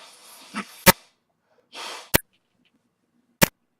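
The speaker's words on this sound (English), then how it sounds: "having to blow my nose right now" Someone blows their nose close by, with a couple of breathy, snuffling honks, separated by sharp clicks and quiet pauses.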